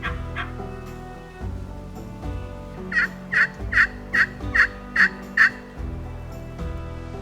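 An Eastern wild turkey gobbles in a rapid series of about eight bursts, clear and fairly close, set against a quiet outdoor background.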